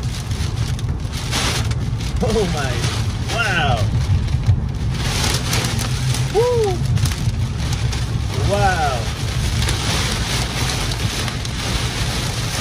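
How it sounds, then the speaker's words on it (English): Heavy monsoon downpour in a severe Phoenix thunderstorm roars steadily and loudly on surfaces throughout, with excited exclamations from people rising over the rain's constant hiss. "I cannot recall seeing rain like this ever."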